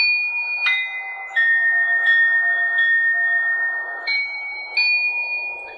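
Sleigh bells from a lightsaber sound font ring out clearly as bright sustained chimes, with several struck tones layering and decaying over the clip, no voices present.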